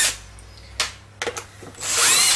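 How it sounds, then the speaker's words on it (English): A power drill backs screws out of a wooden speaker door, with short close bursts of whirring, small clicks and rattles, and a longer loud spin at the end. "Take the 2 screws out."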